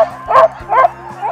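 Sled dogs yip and bark in three quick, close bursts over a low steady rumble, loud and near.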